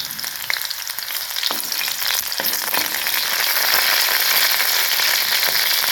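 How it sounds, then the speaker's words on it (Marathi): Garlic frying in oil in a pan for a sprouted moth bean curry gives a loud, steady sizzle that builds slightly over time, broken by a few light utensil clicks and stirs. "लसूणाचं छान असं लालसर भाजून घ्यायचे"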